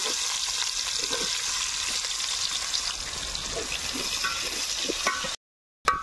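Chopped onions sizzle and fry steadily in a pan, cooked outdoors dhaba-style for chicken biryani, a continuous close hiss with faint stirring, stopping abruptly near the end.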